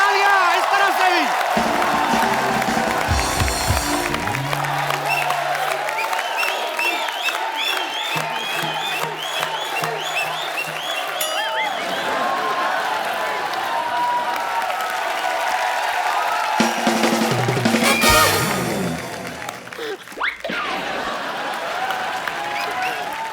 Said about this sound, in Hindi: जोरदार तालियां इस तरफ से भी।